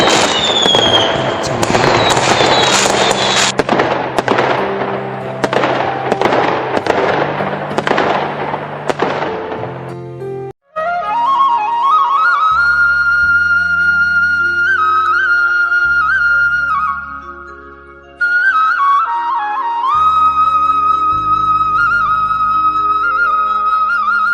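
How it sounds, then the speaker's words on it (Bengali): Fireworks burst in a cartoon village celebration: a rapid run of loud cracks and pops at first, then whistling rockets and sparkling tones dominate the rest. "আর তারপর গ্রামের সকলে আতশবাজি ফুটিয়ে উদযাপন করতে লাগলো।"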